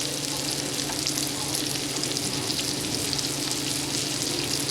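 Chopped shallot fries over a high flame in a non-stick pan for a shrimp and pineapple dish, giving a steady, close, crackling sizzle that continues evenly throughout with no talking.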